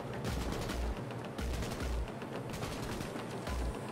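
Rapid bursts of gunfire in Cyberpunk 2077 rattle in several clustered volleys with deep thumping low end, continuous and fairly close, no speech.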